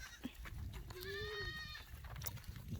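A goat on a farm lets out a single clear, wavering bleat in the middle, with other farm sounds and light movement around it, fairly close.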